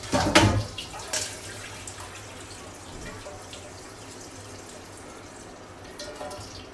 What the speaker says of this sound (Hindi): पानी आपने इसमें ऐड इतना करना है कि बस ये गल जाए